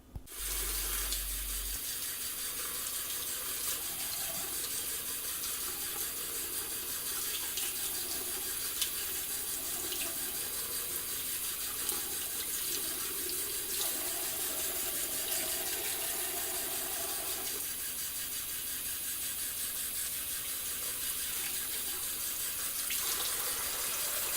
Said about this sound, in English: how it behaves when it's being watered under the tap